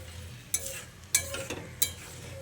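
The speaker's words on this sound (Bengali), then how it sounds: "কচুর সঙ্গে ভালো করে নেড়ে চেড়ে মিশিয়ে নিচ্ছি।" Taro curry stirred in a pan, three sharp spoon scrapes against the pan over a soft low sizzle, close and clear, with no talking.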